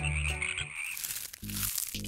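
A frog croaks twice in the second half, low rattling calls standing alone after a brief mix of crinkling sounds, fairly close and clear.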